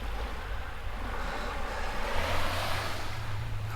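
Surf at Shipwreck Beach on Lanai, a continuous broad wash of breaking waves mixed with wind buffeting the microphone, with a swell building slightly midway.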